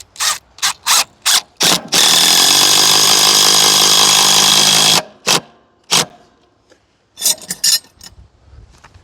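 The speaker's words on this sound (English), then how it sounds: "I'm just going to use some lag bolts and lag bolt this thing in." A power tool drives lag bolts through a Ghost Controls solar gate opener bracket into a pole: short revving blips, then a loud sustained whine of about three seconds, then more brief bursts, with no speech.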